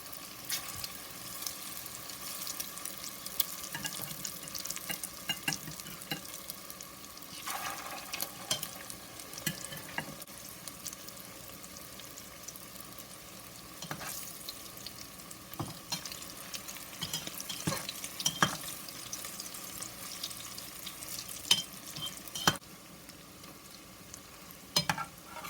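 Breadfruit puffs fry in black-peppered oil in a pot, giving a continuous soft sizzle broken by occasional stirring and scraping sounds, with no talk over it.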